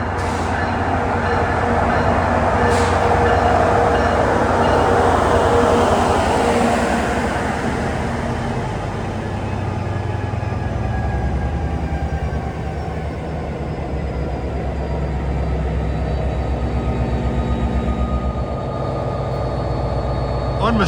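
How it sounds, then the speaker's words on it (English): An EMD locomotive powered by a General Motors 710 sixteen-cylinder diesel, in New Jersey Transit service, roars loudly and steadily close by, a deep continuous rumble that swells and eases slightly over about twenty seconds with no talking. "Unmistakable sound of a 710 16-cylinder General Motors power plant."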